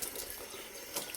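Water runs from a kitchen tap to wet hands while making sourdough bread, a soft, steady splashing stream into the sink, fairly quiet and continuous with no voices.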